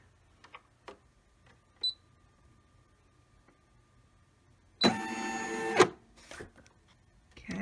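Sewing machine stitching a zippered reading pillow: a single close, loud burst of rapid stitching lasting about a second, set among quiet clicks and handling noises.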